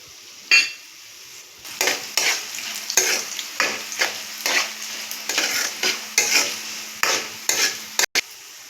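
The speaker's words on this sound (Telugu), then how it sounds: "ధనియాలు ఫ్రై అయిపోయినాయండి." Coriander seeds fry in a hot pan, a steady sizzle broken by a repeated series of scraping stirs and clinks of a spatula against metal, close and clear with no talking.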